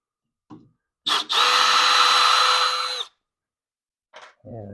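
A handheld power drill whirs for about two seconds, loosening 3mm screws at the back of a Onefinity Elite CNC machine. The whine is steady and close, with brief handling clicks and a short voice before and after.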